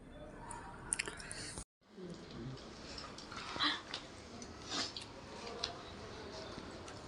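Homemade soup dumplings are bitten and chewed up close, with soft, wet mouth sounds and quiet squishes, while people talk softly throughout.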